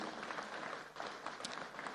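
An audience at an Abuja policy meeting gives a standing round of applause for Professor Ishak Oloyede, an even, continuous patter of clapping heard at moderate distance.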